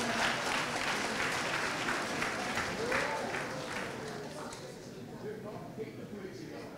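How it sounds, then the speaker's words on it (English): A congregation at a Seventh-day Adventist church's Founders Day worship service gives a round of applause, dense clapping that gradually fades, with some voices murmuring underneath. "let's give the Andersons a big round of applause"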